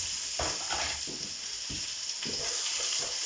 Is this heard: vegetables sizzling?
yes